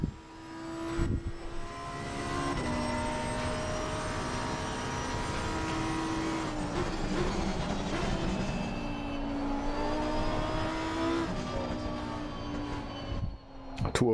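A Porsche's engine drones steadily in a racing video game, holding a constant note with small shifts in pitch across the stretch, loud and continuous with no talk over it.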